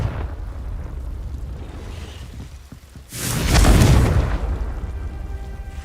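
Fire-spell explosion in the Hogwarts Legacy video game, a sudden loud roaring burst that swells and fades over a couple of seconds after a quieter rumbling game ambience.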